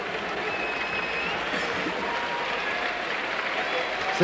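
Rugby stadium crowd at the 2007 World Cup third-place match between France and Argentina applauding as a player is substituted off, a dense sustained clapping that fills the whole stretch evenly.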